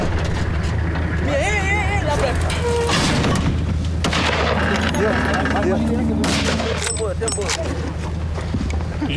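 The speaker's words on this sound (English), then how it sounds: "Shoot again. Reload the gun." Sharp booming gunshots from a hunting rifle ring out during a buffalo hunt in the Tanzanian bush. Voices talk excitedly over and between the loud shots.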